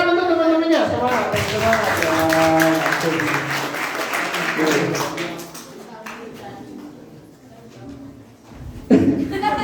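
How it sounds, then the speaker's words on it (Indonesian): An audience at a school scout seminar marking the Pramuka 60th anniversary claps for friends, a dense burst of applause that swells, then fades under voices speaking and calling out over it. "Ini tepuk tangan untuk teman-temannya."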